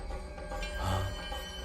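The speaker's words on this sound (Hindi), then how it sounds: "ये ओमना बाथरूम में से फोन कर रहा है।" A telephone rings in short trilling bursts, moderately loud and fairly close, with no one speaking over it.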